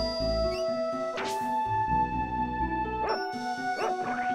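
A dog companion barks in the video game Secret of Evermore, a few short yips over busy game music and sound effects.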